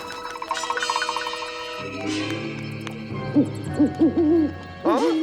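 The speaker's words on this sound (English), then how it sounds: "in this episode we were introduced to these things, owl clams" Owl clams from the SpongeBob SquarePants episode One Crab's Trash give several loud, wavering cartoon hoots in quick bursts, mixed with background music and other cartoon sound effects.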